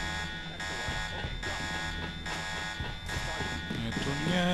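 Electronic alarm going off in the video game Deus Ex, a steady buzzing tone pulsing in regular bursts, with game sounds and a voice talking underneath.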